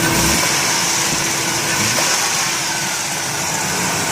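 A 2003 Dodge Caravan minivan's 3.3 V6 engine idles steadily at close range, a constant even rumble with no revving and no voices.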